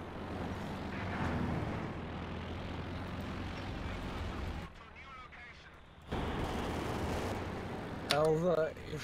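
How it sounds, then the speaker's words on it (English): An airstrike in Company of Heroes 2 gives a loud, continuous roar of aircraft and explosions. It drops off briefly, then surges back, with a short burst of voices near the end. "Incoming airstrike in mid."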